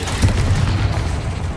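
A Confringo spell explosion in Hogwarts Legacy: a loud, dense booming blast with deep rumble that rolls on for over a second, heard alone.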